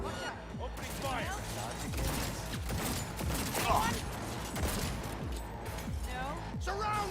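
Turret gunfire rattles in bursts during a Cyberpunk 2077 firefight, mixed with crashes and mechanical clatter under constant game noise, while voices talk over the action.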